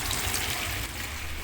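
Water from a garden hose runs through a Parkside water meter with a steady, soft, hissing flow and no other sounds.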